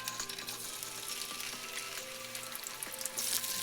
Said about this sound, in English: Now we're frying the sweet potato or yam and potato.